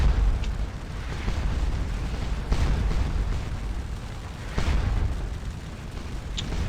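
Artillery batteries fire on infantry in the Napoleonic Waterloo battle game Scourge of War, heard as a steady rumbling wash of distant battle noise with a few muffled booms standing out from it.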